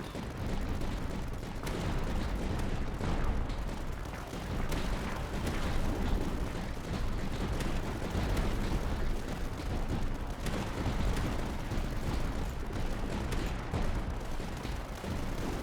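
Light mortars firing in the strategy game Tower Dominion, with a dense, unbroken barrage of booming shots and explosions rumbling at an even loudness from start to finish.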